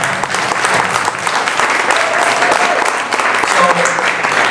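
A crowd at a university Hispanic Serving Institution town hall breaks into steady, full applause, many hands clapping together close by, with a voice speaking faintly underneath.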